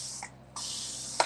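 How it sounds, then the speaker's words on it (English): Spray bottle misting water onto a paper towel while making a stencilled cutting board, a short hissing spray then a longer sustained hiss, close up, with a small tap at the end. "I'm going to use a spray bottle to just kind of get a paper towel"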